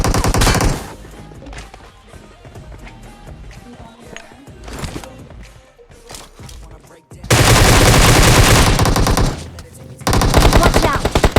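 Enemy players firing guns in a battle-royale shooter, with a short loud burst at the start, scattered quieter shots, and then two long intense bursts of rapid automatic fire up close later on.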